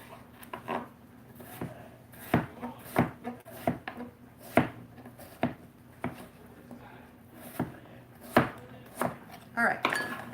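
Knife chopping a potato into small pieces on a cutting board, giving irregular sharp knocks spread across the whole stretch with some faint background hum.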